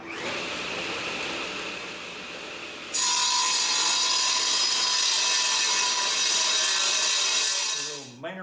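A table saw blade spins up with a sudden loud whine and cuts steadily through a thick wooden board guided along a bed rail, the tone holding for several seconds before winding down at the end.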